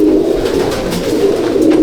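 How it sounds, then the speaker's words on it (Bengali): Andhra and Madrasi pigeons at a loft coo in a steady, close, continuous murmur, with low throaty cooing filling the whole moment and no talking. "দেখুন পায়রা দুটো পায়রাই ছেড়ে দিয়েছি, দুটোই উড়ানো পায়রা"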